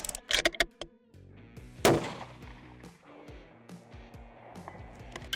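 A rifle fires at a target 700 yards away: a sharp, loud report near the start, then a second strong blast with a rolling echo, followed by fainter clicks and handling sounds.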